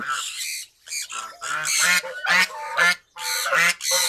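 White geese honking repeatedly at close range, loud nasal calls in quick bursts with brief pauses between.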